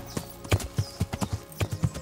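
Horse hooves clip-clop at a steady walking rhythm in the medieval game Kingdom Come: Deliverance, fairly close and moderately loud, with no talk over them.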